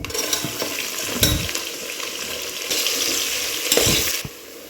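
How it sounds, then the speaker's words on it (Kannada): Onions frying in hot oil for chicken biryani, with a loud continuous sizzle and intermittent scraping stirs of a spatula against the pan, close up and with no talking. "ಆ ಚೆನ್ನಾಗಿ ಫ್ರೈ ಮಾಡ್ಕೊಳ್ಳಿ ಬ್ರೌನಿಶ್ ಆಗೋವರೆಗೂ ಸ್ವಲ್ಪ ಚೆನ್ನಾಗಿ ಫ್ರೈ ಮಾಡ್ಕೊಳ್ಳಿ"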